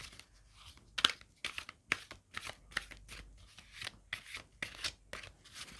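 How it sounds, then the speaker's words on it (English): Tarot cards are shuffled quietly in a series of short, crisp snaps and slides, a dozen or so rhythmic papery flicks heard close up with no talking. "Shuffle quickly."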